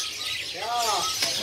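A manyar weaver bird gives a single clear, arching whistled note, moderately loud over a noisy background.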